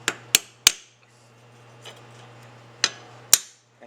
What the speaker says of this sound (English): and a few taps around